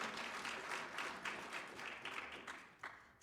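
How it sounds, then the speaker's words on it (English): An audience at a community gathering applauds in a brief, fairly faint round of many hands that thins out and fades toward the end. "So maybe we could applaud them even though we don't know who they are."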